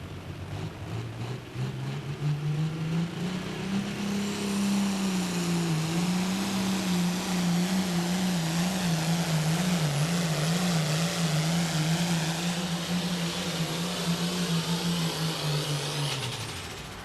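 A pulling tractor at a truck and tractor pull at a county fair roars at high revs in one long sustained run, its engine note wavering slightly, loud and steady before tailing off at the end.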